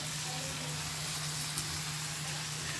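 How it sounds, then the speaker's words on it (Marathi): Garlic dropped into hot oil in a pan while cooking a prawn curry, giving a steady, close sizzle and hiss that holds evenly throughout without pauses or talk. "तेल टाकलेलं आहे आता टाकते लसूण तर तेल गरम झाल्यानंतर"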